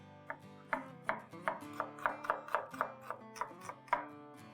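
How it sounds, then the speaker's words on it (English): Red onions being thinly sliced with a knife on a board, about a dozen crisp, close chops in a quick, fairly even rhythm, with no voices. "The first ingredient that's required are red onions, and these need to be thinly sliced"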